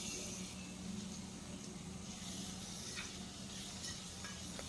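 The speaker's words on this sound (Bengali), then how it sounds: "আলুটাকে প্রথমে হালকা করে একটু ভেজে নিতে হবে" Cut potatoes fry lightly in a pan, giving a steady, fairly soft, even sizzle that runs throughout with no pauses.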